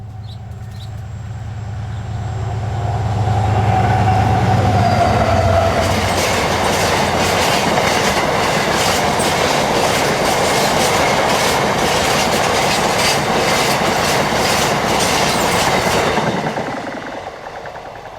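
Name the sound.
Locomotive 70009 hauling freight train 6S29 past Looker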